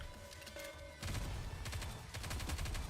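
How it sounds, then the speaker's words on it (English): Dense barrage of rapid gunfire from the shooter game Goddess of Victory Nikke, a steady roar of overlapping shots that grows louder after the first second and keeps pounding without pause. "Decimate your enemies with the barrage of gunfire."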